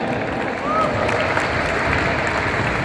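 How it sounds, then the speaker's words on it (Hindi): An audience applauding at an all-India jump rope competition event. Dense, steady clapping continues throughout, with crowd murmur mixed in. "इसलिए मैं इन सबका मैं तालियां बजा के शुक्रिया गुजार करना चाहता हूँ"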